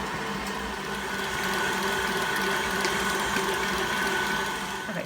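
An electric mixer creams butter and sugar together with a steady whirring, grinding rattle that stays continuous and close, with no voices.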